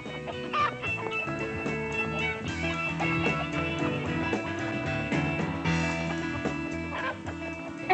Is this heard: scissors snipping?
no